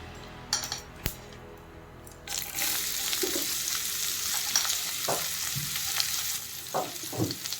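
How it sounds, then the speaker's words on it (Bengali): Sliced onions dropped into hot oil with bay leaf for a Bengali rohu fish curry with potato and cauliflower: a few utensil clinks, then a loud, close, steady frying hiss with occasional stirring scrapes. "পেঁয়াজগুলো আমি একটু লাল লাল করে ভেজে নেব"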